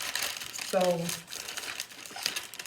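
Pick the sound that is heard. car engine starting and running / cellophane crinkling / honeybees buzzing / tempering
cellophane crinkling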